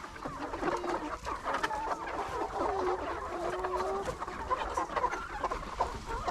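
Several chickens cluck and murmur continuously nearby, overlapping soft calls with a low background hum.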